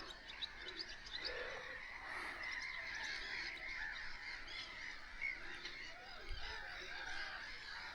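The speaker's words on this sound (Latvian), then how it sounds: "Putni cik te." Geese-like birds honk and chirp repeatedly at a moderate distance outdoors on Saaremaa island near a fortress, a steady flock chorus over faint background ambience.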